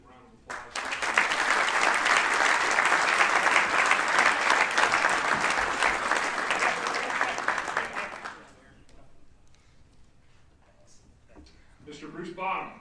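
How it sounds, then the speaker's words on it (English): Enthusiastic audience applause at a golf association special awards presentation honoring a 25-year member, a full round of clapping that swells and holds for several seconds before fading into quiet room sound and a distant voice. "I think that deserves a good round of applause."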